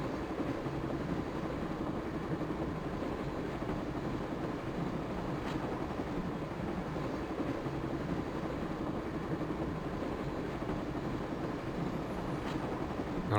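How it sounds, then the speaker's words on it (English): In the Broken Sword video game, a train rolls along with a steady, even rumble and clatter that holds throughout, heard alone with no voices. "Alright, we're on top of the train."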